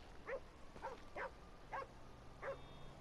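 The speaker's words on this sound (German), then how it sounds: "Aber was kläfft der Hund so?" Five separate barks from a dog in the video game GTA 5 sound at fairly even intervals. They are moderately faint against a steady background hiss, and no one talks.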